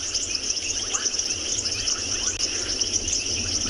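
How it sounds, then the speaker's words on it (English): Frogs and insects call together at night in the South African bush in summer, a dense steady chorus of high cricket-like trilling with scattered chirps layered over it, holding an even level throughout. "you do get this other element of the experience, the frogs and the insects"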